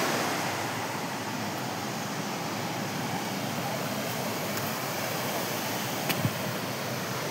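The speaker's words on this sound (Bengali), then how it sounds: "কাছে চলে এসেছি ঝর্ণার" Dossam Falls gives off a steady broadband roar of falling water, continuous and moderately loud, with a few faint clicks over it.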